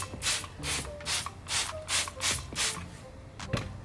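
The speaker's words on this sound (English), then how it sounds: "Maybe I'll give it one more quick spray." Sonax wheel cleaner sprays onto a car wheel in a rapid series of short hissing pumps, about eight quick bursts close by.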